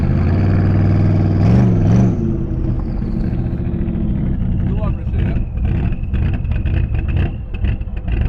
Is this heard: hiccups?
no